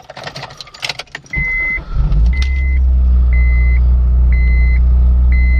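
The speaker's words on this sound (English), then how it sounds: "morning cold start of the Acura RSX" A morning cold start of an Acura RSX: keys jingle, the engine cranks and catches with a rising roar, then settles into a steady high idle while a soft electronic chime repeats at intervals.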